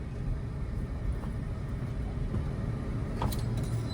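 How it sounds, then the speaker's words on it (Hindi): A car driving slowly in traffic, heard from inside as a steady low engine and road rumble with faint passing vehicle noise. "अब यहाँ पे फुल क्लच दबा लो और इसको फर्स्ट गियर में कर लो चलते चलते"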